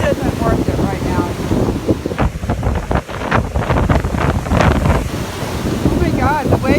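Ocean waves surge and wash onto a windy shore, with strong gusts buffeting the microphone in a steady, loud roar and broken bursts of surf.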